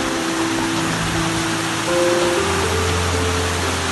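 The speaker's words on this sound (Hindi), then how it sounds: "मुझे आवाज़ सुनाई दे रही है पानी के गिरने की।" Steady roar of Jibhi Waterfall in the Tirthan Valley, a dense broadband rush that stays constant throughout with no voices.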